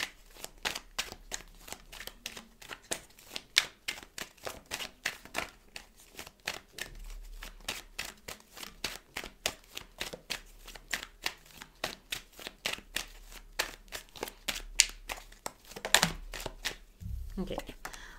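Tarot cards being shuffled in a steady, rapid run of crisp riffling snaps for most of the clip, close and fairly quiet, ending in a few handling bumps.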